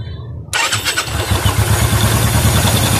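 A Royal Enfield Bullet motorcycle engine, 350 or 500 cc, starts with the key. It catches abruptly after a brief quiet moment, then settles into a loud, steady, thumping idle that carries on to the end.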